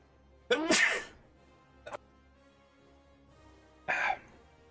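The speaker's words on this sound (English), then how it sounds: "I have to sneeze." A video game character lets out one sharp, close sneeze, then a tiny catch of breath and a second short sneeze after a pause, set against a quiet low musical hum.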